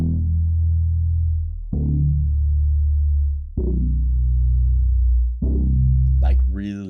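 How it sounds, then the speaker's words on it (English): Deep, simple Serum synth bass patch played in FL Studio: four long sustained low notes with soft attacks, each fading slowly, loud and alone, with a brief high synth flourish near the end. "Like really deep and like not too rhythmic, just like a simple deep bass"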